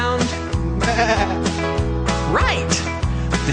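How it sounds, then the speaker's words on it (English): Sheep bleat repeatedly on a farm, several loud, close, quavering cries following one another with barely a pause. "Right, the sheep go"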